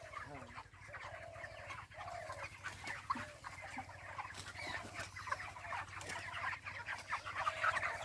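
Many chickens cluck steadily inside a poultry farm shed bedded with rice husk, a dense flock chorus close by, with faint voices now and then.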